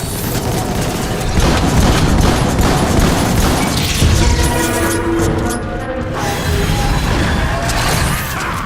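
Gunfire against a boss in Transformers War for Cybertron, a loud, dense barrage of rapid shots blended with mechanical clanking and booming impacts, continuous and close throughout.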